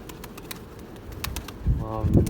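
Tumbler pigeons coo and flutter nearby, with soft wingbeats and a burst of flapping as birds land, over a faint outdoor background.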